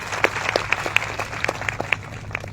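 An audience at a public speech gives a round of applause, heard as scattered, fairly sparse hand claps from a crowd over a low background hum.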